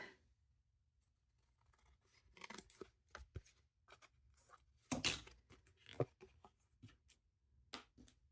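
Scissors trimming the edges of paper craft pieces for a bee-themed journal, heard as a series of short, crisp snips and paper rustles of varying loudness, close by and fairly quiet with no talking.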